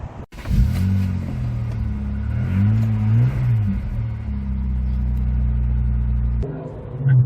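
A 2002 MG ZS 180 drives along, its engine droning and rising in pitch through gear changes, with steady road rumble close by and the engine settling near the end.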